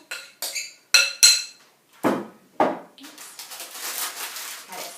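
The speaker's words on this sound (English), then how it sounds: "we're just going to put our mixture in. Make sure you scrape all out of the bowl." Zucchini slice mixture scraped out of a bowl into a baking pan: a few sharp clinks of utensil against bowl, then soft wet thuds and a steady scraping rustle.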